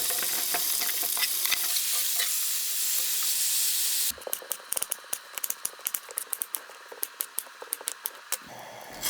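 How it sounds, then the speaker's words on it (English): Onions and venison saute in an Instant Pot. A loud sizzle fills the first half, then gives way to a quieter hiss broken by rapid, sharp scraping and stirring clicks from a utensil against the pot. "saute the onions, saute the venison"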